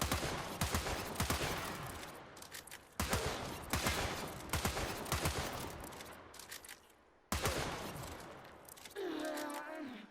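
Zylok weapon firing in the video game Warframe, rapid bursts of sharp gunshots in three volleys separated by brief silences, with a mechanical whir at the end.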